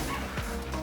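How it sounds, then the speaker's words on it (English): Puppies barking and yipping somewhere in a home, with short high yaps and a brief whimper sounding at moderate distance behind a quiet room. "If you guys hear something in the background, it's the puppies."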